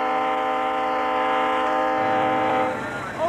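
A freight train rolls past in the industrial Midwest, a steady loud rumble with a sustained horn-like tone that fades toward the end.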